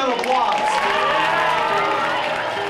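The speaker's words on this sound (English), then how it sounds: "Let's give him a round of applause." A school assembly audience claps and cheers for an all-star student, a continuous wash of applause with voices and whoops mixed in at moderate loudness.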